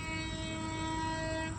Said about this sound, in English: this train is coming soon fast on this track